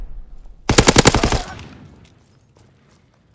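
Automatic machine gun fire in the Call of Duty WWII video game: one loud, rapid burst of about ten shots lasting under a second, then a fading echo and near silence.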